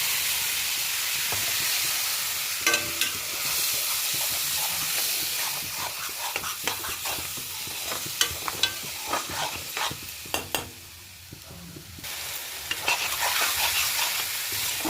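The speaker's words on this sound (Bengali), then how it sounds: "এখন মশলাটা ঢেলে দিচ্ছি।" Spice paste with a little turmeric frying in hot oil, a steady close hiss and sizzle with scattered crackles and spoon scrapes throughout, briefly quieter near the end before the sizzle returns.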